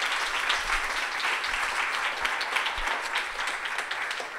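An evening audience at a blockchain and energy industry panel gives the speakers a sustained round of applause, a steady, moderately loud roomful of clapping that carries on evenly with a few heavier claps near the microphone.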